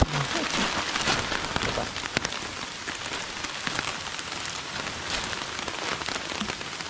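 Steady rain pours down outdoors, a dense, continuous patter of drops striking surfaces close by, loud and unbroken with no voices over it.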